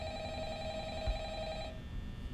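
A telephone in the Five Nights at Freddy's video game rings with a steady electronic trill that stops partway through, leaving a low, constant hum underneath.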